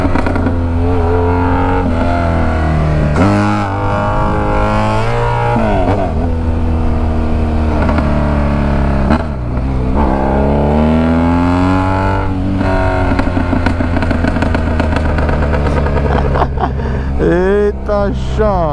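A BMW F800GS motorcycle with only a bare straight pipe revs hard in a favela, a loud, close, sustained engine roar that swells and drops in pitch again and again without pause.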